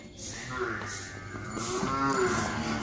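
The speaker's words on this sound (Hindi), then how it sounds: "अब ये है 4 नंबर वाली भैंस" A young Murrah buffalo heifer, jet black and bred for milk, moos at close range on a farm, giving a long, loud call that rises and falls over the whole stretch, with low rustling in the background.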